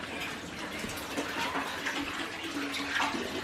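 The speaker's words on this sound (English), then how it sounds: "There's water running in here." Steady running water, like a tap filling a basin, a constant rushing hiss throughout at moderate level.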